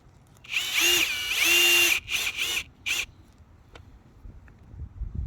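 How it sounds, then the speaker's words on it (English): A cordless power drill driving screws into railway track, with two long whining bursts followed by several shorter pulses, loud and close, then quiet outdoor ambience. "now it's time to get these screws in place."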